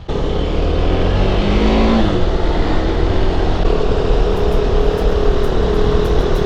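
A group of motorcycles rides across the Hooghly bridge, a loud, steady roar of engines and rushing wind that stays close and unbroken throughout.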